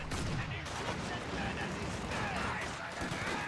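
Rapid machine gun fire rattles through a dense battle mix in Company of Heroes 2, a 1v1 match with Soviet forces, layered with other gunfire and a commentator talking over it.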